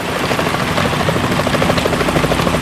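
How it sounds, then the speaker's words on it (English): In Metal Gear Solid 2, a helicopter's rotor thumps in a steady, loud, rapid beat over a rushing engine roar, filling the whole stretch with no voices. "Is that a chopper I just heard?"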